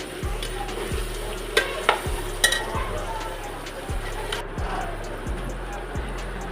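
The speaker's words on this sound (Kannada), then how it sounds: "ಚೆನ್ನಾಗಿ ಮಿಕ್ಸ್ ಮಾಡ್ಕೊಳ್ಳಿ." Spoon stirring coriander powder into a sizzling curry mixture in a pan for egg and country chicken curry: steady regular scraping strokes about every half second over a constant frying hiss, close up, no talk.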